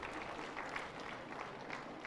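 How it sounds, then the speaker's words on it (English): Faint, distant applause from an audience at an award ceremony for a national elephant day painting prize, a steady soft wash of clapping with no clear talk. "A big round of applause,"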